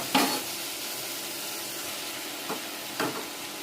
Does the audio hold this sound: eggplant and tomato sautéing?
yes